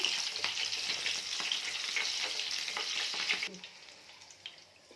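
Green chillies sizzle and crackle steadily in hot oil for a pakora topping, a dense close frying hiss with small pops, cutting off abruptly near the end to a quieter fading sizzle.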